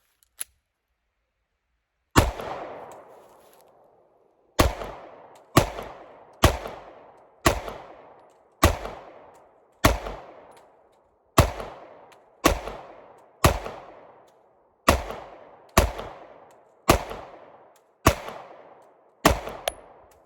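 Single loud gunshots from a custom Sig P365 pistol firing hollow-point rounds outdoors, about fifteen sharp reports at irregular intervals of roughly half a second to two seconds, each with a short decaying echo.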